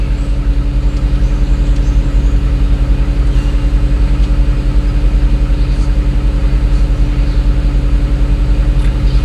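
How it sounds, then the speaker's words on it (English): A 2009 Mercedes-Benz 164 sits idling, its engine giving off a loud, steady low hum with an even rhythmic pulse that holds unchanged for over nine seconds, no voices present. "Car is running."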